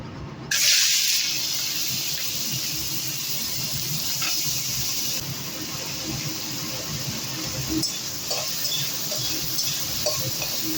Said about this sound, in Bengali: এখন তেলের মধ্যে প্রথমেই আমি কিন্তু মাছগুলোকে ভেজে নেব।